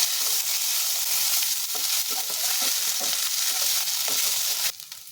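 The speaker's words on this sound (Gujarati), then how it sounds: "તો હવે આપણે એમાં આદુ મરચાંની પેસ્ટ ઉમેરીશું" Ginger-chilli paste sizzling in hot tempering oil for a green pea ragda, a dense, steady hiss close up with light scraping stirs, ending in a brief drop in intensity.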